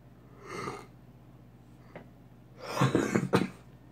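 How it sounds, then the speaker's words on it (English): Coughing close to the microphone at night: one short cough, a pause, then a harsher burst of two or three rough coughs near the end, alone in a quiet room. "And I coughed that time too."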